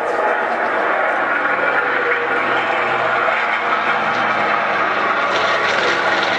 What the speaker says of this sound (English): The B-25, this big twin-engine brute of an aircraft.